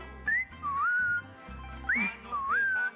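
A person whistles an imitation of a great kiskadee call in two repeated phrases, each a short rising note followed by a sliding, held tone, clear and close.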